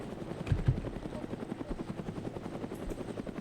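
Helicopter flying in the ARMA 3 military game, a steady rhythmic rotor chop throughout, fairly loud and close, with a couple of low thumps near the start.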